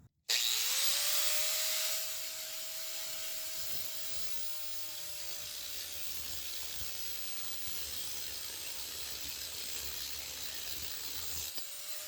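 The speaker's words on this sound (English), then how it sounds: "I'm going to go ahead and get my grinder out and just cut that part off" A grinder screams steadily as it cuts the foot peg stop off a 1970s Tote Gote Model B trail bike frame. After a sharp start, the loud, continuous whine runs for about eleven seconds before cutting out.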